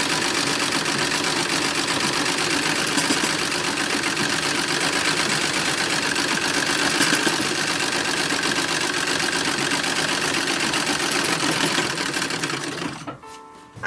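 A sewing machine runs loudly and continuously, stitching romper fronts and backs together for a 1910s–1920s toddler garment. The needle clatters in a fast steady whir, then stops abruptly near the end.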